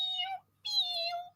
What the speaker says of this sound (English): I heard his little kitty cats.